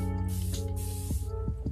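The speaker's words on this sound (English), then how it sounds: "Now we're just spraying around our hair again." Old-school hair product is sprayed around the hair in short hissing bursts, close and fairly loud, over a steady humming background.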